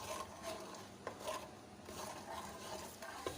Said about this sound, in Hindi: मसाले को हम अच्छी तरह भून लेंगे।